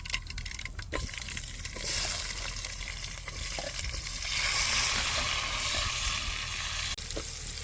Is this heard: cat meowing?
no